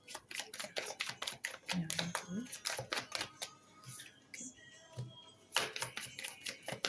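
Tarot-style cards laid down one by one on a table, one per row, giving a run of crisp slaps and clicks with brief pauses, under a voice speaking French.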